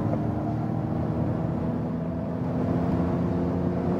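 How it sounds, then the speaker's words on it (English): A Ford Mustang Mach-E electric car accelerates from 100 km/h, its cabin filled with a steady, loud low road and wind roar and a faint electric whir. "we are at 100 kilometers an hour and we can accelerate it out"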